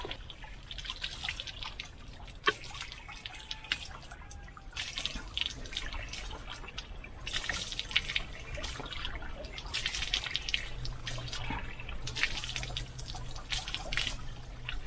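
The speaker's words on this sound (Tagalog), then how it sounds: "Ito pala, may bukal." Water from a natural spring trickles and drips steadily outdoors, a faint continuous babble with scattered small splashes and no talk.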